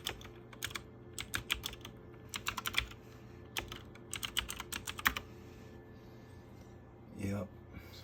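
A Google search typed on a computer keyboard, with quick close key clicks in bursts over a steady background hum and a brief voice near the end.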